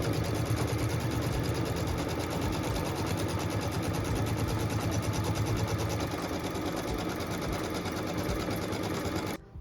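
An embroidery machine stitches a batting placement line for a quilt block, a steady, close, loud mechanical whir with rapid even needle rhythm running continuously before stopping abruptly at the end.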